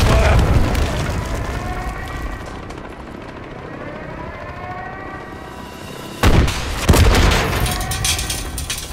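In the Call of Duty: Modern Warfare III video game, an RPG rocket is fired and explodes: a sustained rumbling din of combat gives way to sharp, loud booming blasts near the end.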